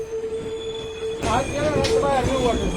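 A passenger train on the Pune to Ernakulam route rumbling along the rails, with a hum that swells into louder rolling and metallic squeal partway through, heard from inside at close range.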